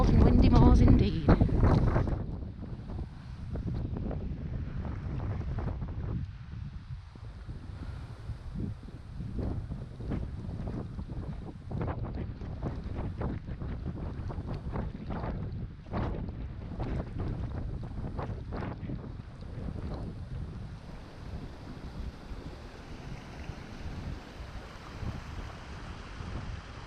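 Relentless strong wind blows across open moorland in the rain, roaring and buffeting the microphone in repeated gusts for a long stretch, with a loud burst at the start and a voice speaking over it.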